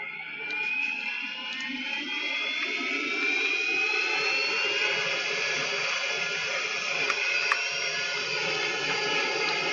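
Helicopter in a video game, a steady loud turbine whine with rising high-pitched tones and constant rotor roar, close and continuous with no talking.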